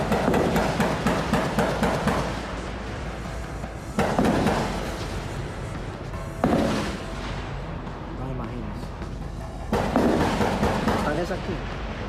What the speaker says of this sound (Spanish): Disparos, explosivos y muerte.